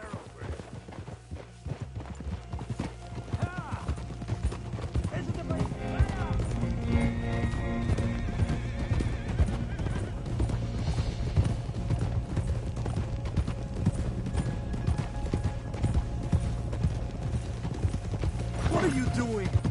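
Horse hooves clip-clop steadily at a riding pace in the Red Dead Redemption 2 game world, continuous and fairly close, layered with game music and ambient sound, with an occasional whinny and speech mixed in.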